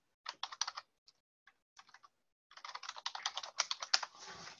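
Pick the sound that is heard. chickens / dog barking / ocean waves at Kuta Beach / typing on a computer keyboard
typing on a computer keyboard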